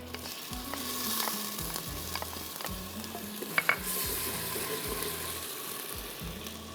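Ginger garlic paste frying in a hot pan, a steady close sizzle with occasional stirring scrapes and a couple of sharp clinks, no one talking.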